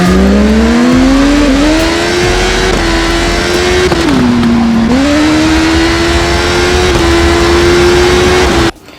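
Simulated BMW S1000 RR racing-class motorbike engine from an indoor racing video game, a loud continuous drone whose pitch climbs, dips between gear changes and climbs again, cutting off abruptly at the end.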